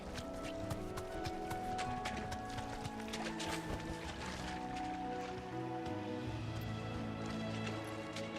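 In Final Fantasy 16, a chocobo steed runs with a quick stream of footfalls over a layered, music-like game soundscape, steady and moderately soft.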